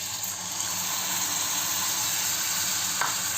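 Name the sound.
yogurt and spice mix poured into hot pan, sizzling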